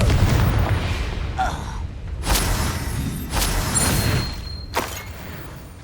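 Blasting spell explosions in the Hogwarts Legacy video game: several loud, sharp booming bursts spaced a second or so apart over a rumbling game background, with no one talking.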